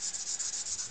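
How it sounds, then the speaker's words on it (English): Quiet, even rubbing strokes of a cloth or abrasive polishing a brass part of an Optimus 415 blow torch, close up with a regular back-and-forth rhythm and no talk. "I'm going to carry on, just finishing, polishing this up, the bit of brass."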